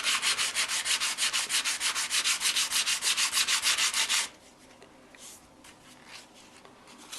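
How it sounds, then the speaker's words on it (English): Coarse 80 to 100 grit sandpaper is rubbed by hand along a knife made from a saw blade, giving about four seconds of loud, rhythmic back-and-forth scratchy strokes before stopping, then only faint, quiet handling noise. "this is probably an 80 or maybe 100 grit. I'm just going to start shaping it or smoothing it out a bit."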